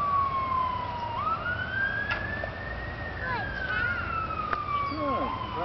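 Ambulance siren passing by outdoors in a backyard, a long rising and falling wail that sweeps up, holds and slowly drops, moderately loud over a steady background hum.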